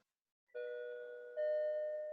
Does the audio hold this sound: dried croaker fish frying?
no